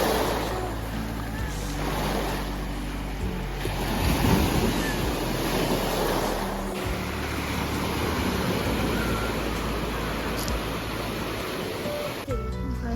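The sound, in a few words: sea waves on a beach in Vasiliki, Lefkada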